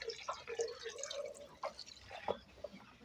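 Water dripping and trickling weakly from a low-pressure tap on a farm, irregular small drips and splashes heard close by and faintly.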